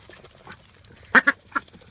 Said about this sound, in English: there's the guineas having their feeding frenzy